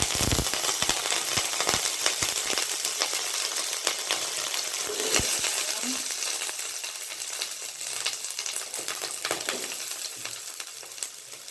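Fennel seeds and curry leaves frying in hot oil for egg chapati give a steady, close sizzle with scattered sharp crackles and pops, alone without talk.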